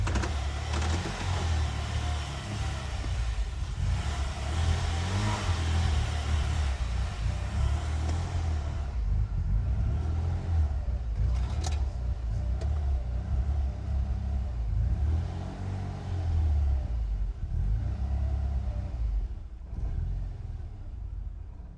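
A Ford Escort XR3i cabriolet, a barn find with a faulty cold start, idles in a workshop with a continuous, fairly loud low rumble that wavers slightly in level throughout.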